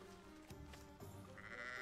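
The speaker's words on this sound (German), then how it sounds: "Oh, kleine Zieglein, hallo." Little goats bleating softly in a Hogwarts Legacy village scene, faint and brief against a low game ambience with no talking.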